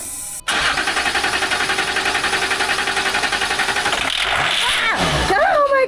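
A Land Rover diesel engine cranks in a fast, even rhythm for several seconds without catching, the starter loud and close, then stops as a voice cuts in.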